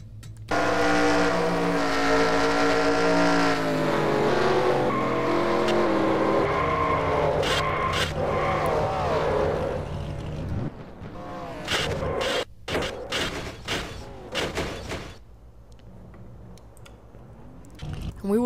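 Stock car engines roar in a video game sim race at Kansas, heard from on board the number 20 car: a loud, sustained engine drone with shifting pitch, followed by choppier mechanical noise with voices talking over it.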